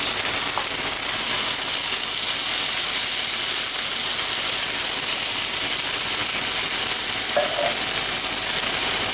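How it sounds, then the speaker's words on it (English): Tomatoes and tomato puree cook in a hot pan for a Mediterranean gnocchi bake, making a loud, continuous sizzling hiss with steam that holds steady throughout, with no talking. "The tomato puree, and I'm going to give that a good stir."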